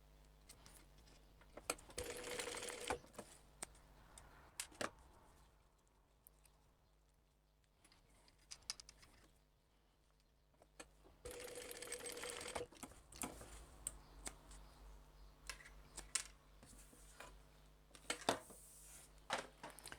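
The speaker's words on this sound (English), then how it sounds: "I'm just going to baste along the bottom to hold them in place." A sewing machine basting along the bottom of a crossbody bag to hold D-rings in place, running in two quiet, rapid mechanical bursts with softer handling clicks between them.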